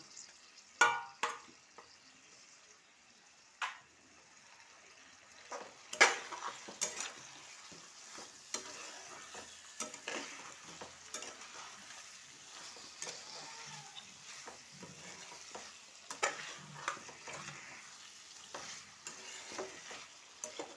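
Chicken fries in a pan with whole onions, green chillies and julienned ginger for a lemon masala chicken, giving a soft continuous sizzle broken by close scraping clacks of a spoon stirring.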